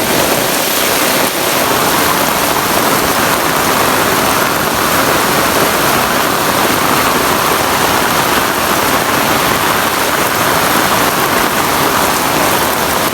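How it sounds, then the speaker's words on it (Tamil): Heavy downpour during a sudden flood, with rain pounding steadily and floodwater rushing along a path, a dense, loud, unbroken wash of sound with no voices. "பாரு எப்படி மழை பெய்யுது"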